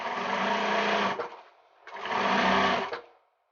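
A sewing machine runs through the bulky top facing seam of a tote bag with French seams, in two loud, close bursts of steady whirring separated by a brief pause.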